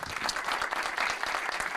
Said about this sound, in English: Please join me again in another round of applause.